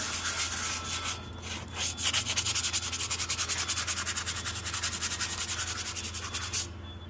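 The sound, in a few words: sander sanding rust off a go-kart seat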